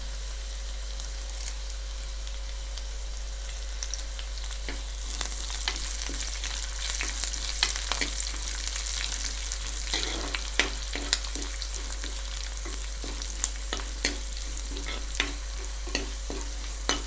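Green chillies and curry leaves sizzle in hot oil for a Kerala fish curry, a steady crackling fry with occasional sharper pops and stirring clicks, close and continuous with no talking.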